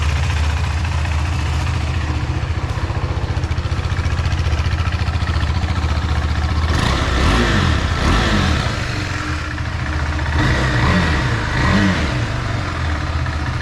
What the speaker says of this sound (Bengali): চলো গাড়িটা একবার স্টার্ট দিয়ে দিলাম। তো এবার গাড়ি গরম হয়ে যাবে একটু, ইঞ্জিন।